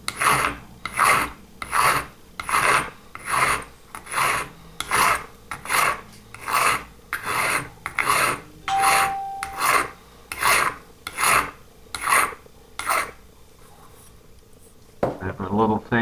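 A hand file rasps back and forth over hardened body filler on a 1956 Buick Century, steady rhythmic strokes, loud and close, about a dozen passes before it stops.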